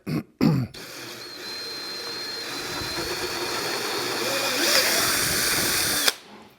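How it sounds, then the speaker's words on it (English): A power drill whines steadily up close for several seconds, pitch climbing slightly as it bites through a plastic fuel can to make a vent hole, after a couple of short knocks. "So we're gonna drill a vent."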